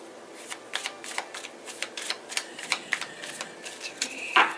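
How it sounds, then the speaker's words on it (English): A deck of tarot cards is shuffled quickly, a run of rapid riffling flutters and snaps close by, ending in a sharper tap. "I'm going to do a quick shuffle real quick for you"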